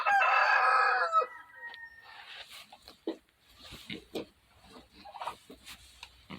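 Roosters crowing in a bird coop: one loud, close crow opens, followed by softer clucking, rustling and scattered bird calls from the flock.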